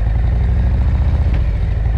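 A Harley-Davidson Road or Street Glide motorcycle rolls at about 20 mph during threshold braking practice, its engine a loud, close, steady low rumble with some clatter.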